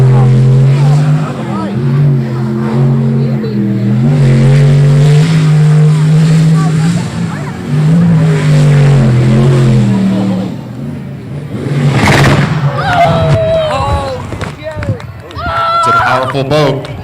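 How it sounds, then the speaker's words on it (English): A New Zealand sprint boat's engine roars loudly and continuously through a race run on a jet sprint course, revving and surging with shifting pitch, while an announcer talks over it. "this boat from New Zealand just has a different sound to it"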